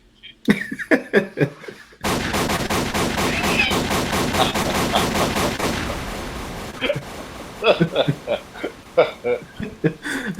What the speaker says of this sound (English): Domino, can you throw this up in the air and shoot this shit?